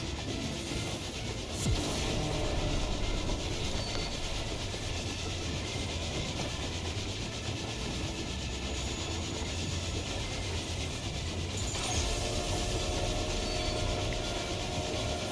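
A Final Fantasy XIV train rumbles in a dense, continuous roar with rattling clatter, steady and loud throughout, with brief sharper hisses breaking through, no voices.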